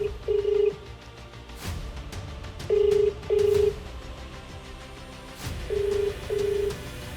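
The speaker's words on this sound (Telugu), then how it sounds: "ఒకసారి ఆయనకి కాల్ చేద్దాం." A phone call rings out in paired electronic trills, three double rings spaced about three seconds apart, clear and close over faint background noise, with no one speaking.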